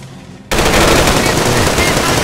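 Sustained machine-gun fire and rapid gunshots from a Company of Heroes Modern Combat infantry battle suddenly burst in loud and dense after a quieter half-second, continuing without pause.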